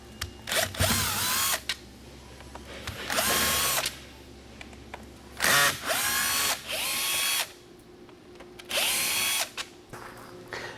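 A power drill backs screws out of bed trim rings in a series of short, loud whirring bursts separated by brief pauses, each burst winding up and spinning down close by.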